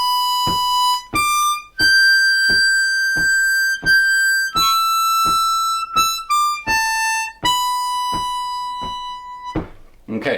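A harmonica plays a lick from the solo of a song, a string of clear sustained single notes stepping up and down in the high register over a steady ticking click, loud and close.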